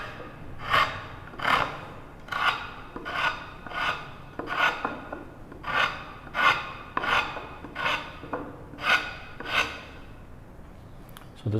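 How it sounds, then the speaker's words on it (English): A chisel is dragged across a wooden stool tenon to shave it, giving about a dozen evenly spaced raspy scraping strokes, close and distinct, each a short rough swish. "another way of shaving the tenon would be to use a chisel and just drag"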